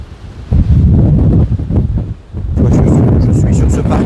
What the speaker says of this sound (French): Oh là là, quel vent!